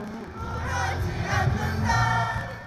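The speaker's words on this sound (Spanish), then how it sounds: "Los surcoreanos que pidieron la dimisión de Park aplaudieron fuera de la corte." A crowd outside the court in Seoul cheers and shouts after President Park Geun-hye's impeachment, a rising and falling roar of many voices heard from a distance, with no clear talk.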